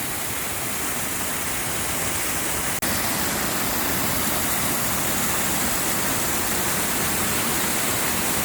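A waterfall in Scottish woodland after heavy rain roars in a loud, steady broadband rush, close and unbroken, with one brief click partway through.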